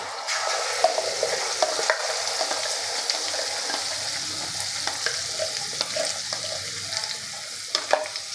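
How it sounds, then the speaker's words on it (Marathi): Masala paste stirred and frying in oil in a pan for a Nagari-style bhaji amti curry, a steady close sizzle with scraping spoon strokes recurring throughout, no voices. "आता हे सगळं आपल्याला मिक्स करून घ्यायचं आहे आणि तेल सुटेपर्यंत आपल्याला शिजवून घ्यायचं आहे"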